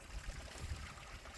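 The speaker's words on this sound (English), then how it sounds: "filling up their water." Water runs and trickles into the dogs' water container on a farm, a soft low gurgling stream that sounds close but faint, with no talk over it.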